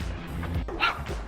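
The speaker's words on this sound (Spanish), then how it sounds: "Y vienen los perros a echarnos" Several dogs bark and yip near a house gate, a short burst of sharp barks over low background rumble.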